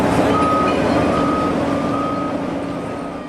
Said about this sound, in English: The truck's coming in with some recycling material.